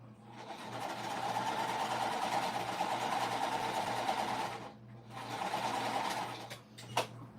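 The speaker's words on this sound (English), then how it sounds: "I'm sewing these rows like from the top, like the first row down to the fifth." A sewing machine runs steadily while stitching rows of a puff quilt, a loud close mechanical whirr that stops briefly near the end and then starts again, with no talking.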